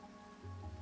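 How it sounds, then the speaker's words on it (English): Faint, steady patter of rain falling in modded Minecraft with a shaders pack, a soft continuous hiss with a low tone swelling briefly near the end. "Wow, because it's raining."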